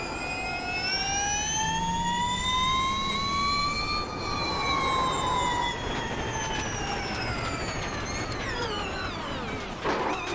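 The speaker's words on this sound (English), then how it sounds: "I can hear every little blip of my throttle." An all-electric Porsche Mission R racecar driven in iRacing, a loud whining electric drivetrain tone that rises and falls with throttle blips and shifts in pitch, continuous and prominent with no speech.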